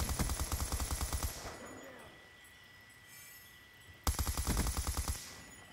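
Bursts of rapid automatic gunfire from the Black Ops 2 video game, loud and close, a long volley followed by a quiet pause with faint ambience, then another short burst.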